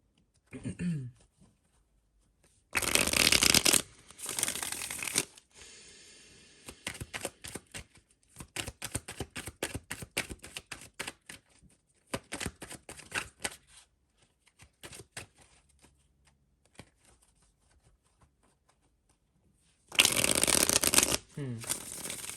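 A Vice Versa Tarot deck shuffled by hand at close range, with bursts of riffling and many rapid card flicks and slaps, broken by short pauses, then a final riffle near the end.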